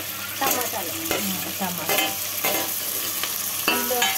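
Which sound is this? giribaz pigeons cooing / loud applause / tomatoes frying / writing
tomatoes frying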